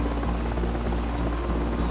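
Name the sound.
helicopter circling over the pyramids, cartoon sound effect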